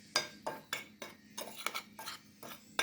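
Spoon clinking rhythmically against a bowl while cayenne pepper seasoning is stirred in, about ten quick even strikes, close and clear with no talking.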